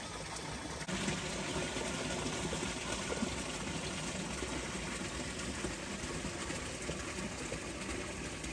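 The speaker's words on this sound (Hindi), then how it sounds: "यहाँ पे थोड़ा सा जगह है जहाँ से पानी नीचे से गुजर रहा है।" Water flowing beneath frozen ice in a cold village near the Siachen Glacier in Pakistan, a faint, steady rushing wash that continues without pause.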